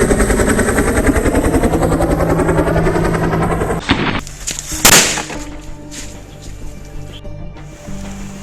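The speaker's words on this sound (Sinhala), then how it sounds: "අරුවට වෙඩි තියපන්" Film-style gunfire in an action scene, a dense sustained rattle of automatic shots for about four seconds, followed by a few louder separate blasts and scattered impacts, fairly close and loud with no talk.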